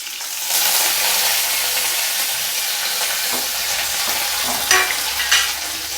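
Curry leaves and green chilli frying in hot oil while being stirred, giving a loud, steady crackling sizzle throughout with a few scraping stirs near the end; no one speaks.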